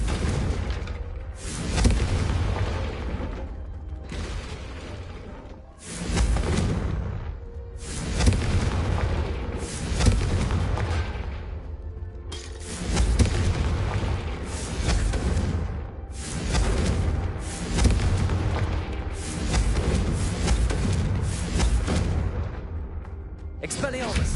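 Repeated Confringo blasting-curse explosions go off in Hogwarts Legacy spell combat, a rapid string of loud bursts and booms arriving every second or two, with a voice talking over parts of it.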